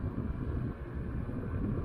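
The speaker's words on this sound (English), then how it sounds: "It's a little bit windy here too." Steady low rumbling wind buffeting the microphone during an outdoor bike ride, continuous and fairly loud throughout with no voices.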